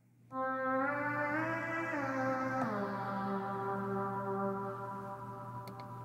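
The Lonely Lead synth preset in Hype on an Akai Force plays a single sustained, harmonically rich lead note that slides upward, then dips and settles into a steady tone, alone with no voices.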